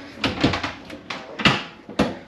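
Someone tries a locked toilet door on a train travelling from Kazakhstan to Uzbekistan, making a series of sharp rattling knocks and thumps at irregular intervals, close and fairly loud, with no voices.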